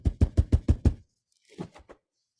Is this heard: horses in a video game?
no